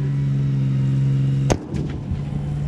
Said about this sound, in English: Another shot fired.